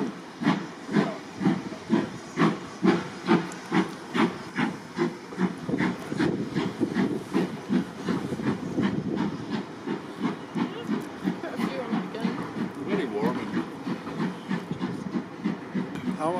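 Steam locomotive on the Strathspey Railway's opening day of steam services, chuffing in rhythmic bursts with steady hiss that gradually blurs into a continuous rush.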